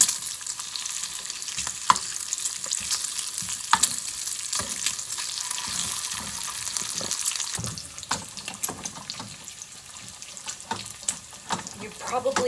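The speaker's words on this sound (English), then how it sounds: "And then also have some bacon crisping up here." Bacon and scrambled eggs frying on low heat in a buttered pan, a steady broadband sizzle with occasional utensil scrapes and stirring clicks, close and continuous throughout.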